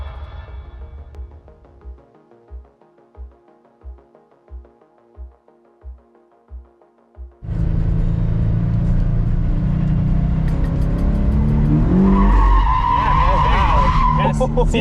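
A modified Subaru FRS drifts with loud, sustained tire squeal and engine roar at a grassroots drift school, after a stretch of rhythmic idling pulses; the screeching rises strongly toward the end.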